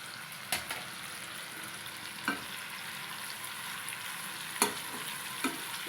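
Paneer fries lightly in a pan with a steady, close sizzle, broken by occasional sharp clicks from stirring.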